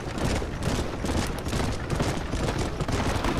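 Rapid overlapping gunfire from the Red Dead Redemption video game, heard as a loud, dense volley of shots throughout a short wagon chase with no clear talk.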